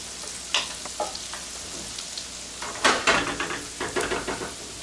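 Steady sizzling of shrimp frying in a pan, with a constant hiss and occasional scraping stirs of a utensil, close up.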